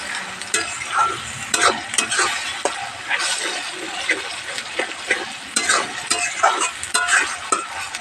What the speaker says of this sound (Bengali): এবার পেঁয়াজ আদা রসুন ভালো করে ভেজে নেব